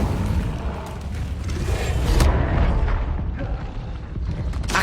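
A fiery Incendio spell cast in the Hogwarts Legacy video game, heard as a loud, continuous rumbling whoosh of flame with a low booming burst near the middle, steady and dense throughout with no talking.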